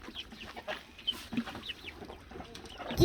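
Soft clucks and peeps from chicks and hens on a farm with turkeys and ducks, intermittent short calls over low background, ending in a louder bump.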